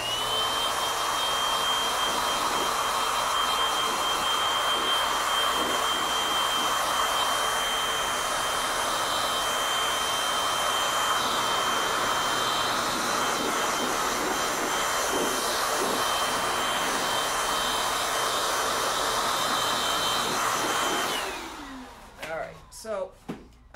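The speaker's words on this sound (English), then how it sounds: "I'm turning the compressor on." An air compressor in an epoxy resin workshop drones loud and steady for about twenty seconds, a dense rushing roar with a faint whine, then cuts off, leaving a few scattered clicks and knocks.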